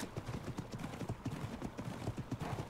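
Horse hooves clip-clop steadily in the ARK video game, a brisk, continuous rhythmic trot throughout.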